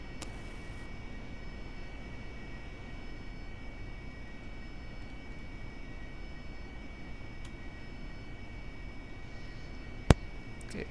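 Steady droning aircraft engine hum while taxiing in DCS, a constant low rumble with faint whine, one sharp click near the end.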